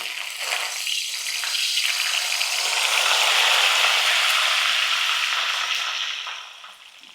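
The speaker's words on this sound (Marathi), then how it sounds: "कोथिंबीर पण मी इथे तळून घेतली आहे" Coriander leaves frying in hot oil for poha chivda, making a dense crackling sizzle that swells, holds steady for several seconds, then fades out.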